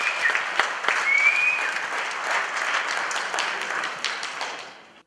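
A live-show audience gives sustained, even applause as the Hawks return to the stage, a full room of clapping that fades out at the end.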